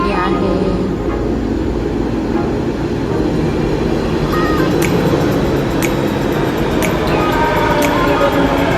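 Metro train at a nearly empty metro station in Pune, a loud continuous rolling rumble and rail hum filling the whole stretch, with faint voices in the background.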